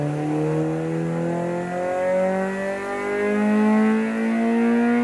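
A D16zc engine on a dyno is revved up high, with a steady, rising engine whine that climbs in pitch and stays loud and close throughout, with no talking.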